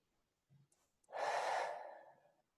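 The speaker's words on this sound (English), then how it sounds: "And breathe." A single slow breath during a guided breathing exercise: a faint intake, then one long, soft, airy exhale up close in a quiet room.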